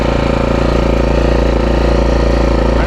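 A brand-new AI Volt 3450-watt inverter generator runs right after starting on its first pull, giving a loud, even engine drone with a steady hum and no speech.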